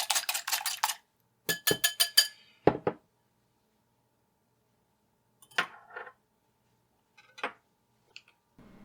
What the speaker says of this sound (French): Dans le premier bol, je casse un œuf, je le bats